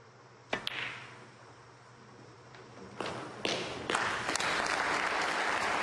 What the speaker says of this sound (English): They were applauding it in.